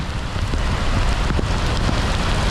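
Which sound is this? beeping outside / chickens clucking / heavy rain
heavy rain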